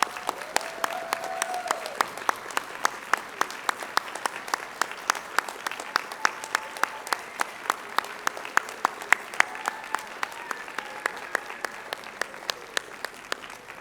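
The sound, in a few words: audience applauding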